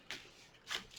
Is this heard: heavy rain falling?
no